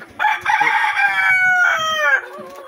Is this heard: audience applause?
no